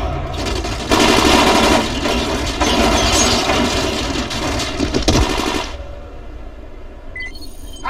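Sustained automatic gunfire in the Dying Light video game, loud rapid bursts for several seconds before cutting off into quieter ambience with a few electronic beeps.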